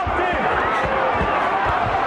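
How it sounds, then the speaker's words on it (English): Boxing arena crowd at the James Toney versus Samuel Peter heavyweight fight in 2006, a dense, steady roar of many voices rising in excitement, with scattered shouts and thuds from ringside under a loud, continuous wash of cheering. "Crowd getting riled up."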